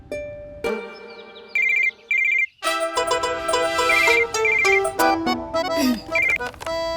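A phone ringtone plays in a Hindi TV drama scene, starting with repeated electronic beeps and then a bright melodic tune at moderate volume, with voices briefly heard under it.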